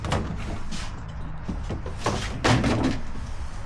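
A drawer on a camper's fridge pulled open, a few light knocks and sliding bumps of plastic close by, quiet and without talk.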